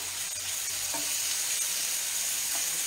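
Tuna sizzles and fries in a pan with tomatoes for Italian paccheri pasta, a steady loud crackle and hiss with faint stirring and no talk.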